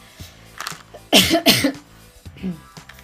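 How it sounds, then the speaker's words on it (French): Two loud, close coughs in quick succession, with quieter throat sounds and breathing before and after. "J'en ai marre de tousser pendant les vidéos."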